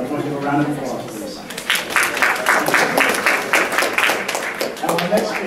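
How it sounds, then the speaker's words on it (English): Audience applause at an education talk evening, moderately loud clapping over several seconds mixed with a speaking voice. "I want to give a round of applause for this."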